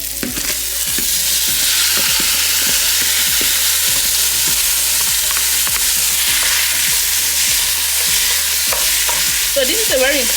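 Rice being stir-fried in an already hot pan for vegetable, beef, chicken and shrimp fried rice, giving a loud, steady sizzle with regular scraping strokes of the spatula throughout.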